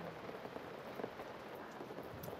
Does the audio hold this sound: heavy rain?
yes